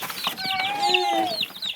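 Baby chicks and ducklings in a box peep close by, with shrill, overlapping high chirps running in a quick, busy chorus.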